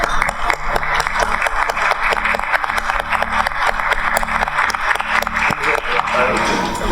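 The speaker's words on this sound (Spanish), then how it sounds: "A mí siempre me gusta iniciar los aplausos." Audience applause at a corporate ethics awards ceremony, sustained steady clapping from a large crowd filling the room, with some voices blended in.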